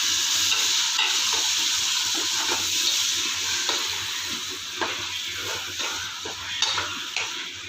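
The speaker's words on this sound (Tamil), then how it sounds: "இப்போ கேரட்டு பீன்ஸ் ரெண்டையும் ஒன்றாவே போட்டுடலாம்" Carrots and beans sautéing with onions in a pan for paneer green pulao, a loud steady hiss with stirring scrapes and soft clicks of the spoon, close and continuous with no talk.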